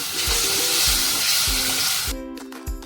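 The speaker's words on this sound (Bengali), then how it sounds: "লবণ দিলাম এক চামচ মতো এবারে মশলাটা কষিয়ে দেবো ভালো করে" Spice paste sizzles steadily in a hot pan with salt, a loud broadband frying hiss under repeated low scraping strokes of a spoon, the sizzle dropping sharply near the end as stirring continues.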